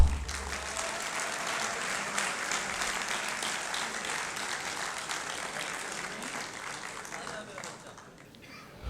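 Sustained audience applause at a Multan mushaira of Urdu poetry, welcoming poet Khurram Afaq, a dense wash of many hands clapping steadily for about eight seconds before fading out.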